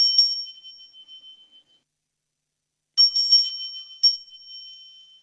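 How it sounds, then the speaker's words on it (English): A small hand bell rings with a bright metallic ting, struck a few times at the start, fading into a ringing tail, then after silence rung again in a quick cluster and once more. "Also, I've got a bell."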